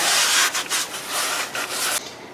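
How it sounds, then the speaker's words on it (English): A cloth rubs grease off a brake rotor during a wheel bearing regrease on an IROC-Z barn find, giving close, loud, broadband scrubbing strokes with short pauses between passes. "Get the grease off the rotor."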